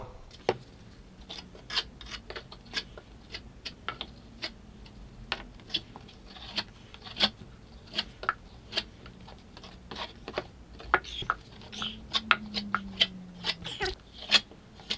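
Drywall knife scraping joint compound over tape on a textured wall patch, a steady run of sharp, close scrapes and clicks.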